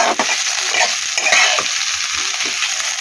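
Vegetables sizzle and crackle in a hot pan, a steady close frying hiss with occasional stirring scrapes running throughout, no voices.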